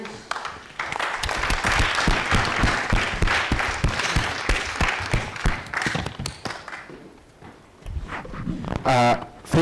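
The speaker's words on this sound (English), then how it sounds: "Are you ready to clap for your chair?" A national children's assembly meeting in Kenya breaks into dense, steady clapping from the audience for several seconds before it thins out and a voice speaks.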